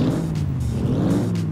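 A car engine revs loudly and continuously in the crash game Turbo Dismount, a close, throaty motor drone with rising pulses and no talking over it.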